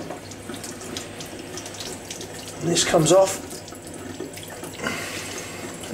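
Water running from a tap as dirty hands are rinsed clean, a steady splashing hiss with a louder burst of splashing midway, while a person talks.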